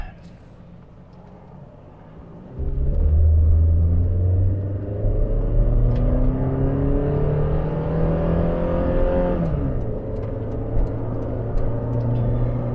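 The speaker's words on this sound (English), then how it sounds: "Lots of traffic, so let's time it out so we hit a gap." Heavy traffic on the Coquihalla Highway, with cars and trucks accelerating past in a loud, continuous rumble that rises as engines climb through their gears.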